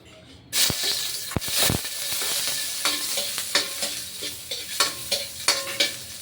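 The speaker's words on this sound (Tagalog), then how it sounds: "Yan, ilagay na natin ang bawang." Garlic hits a hot pan and sizzles loudly for Filipino sautéed bitter melon with onion, with a steady frying hiss and repeated scraping stirs throughout, no talking.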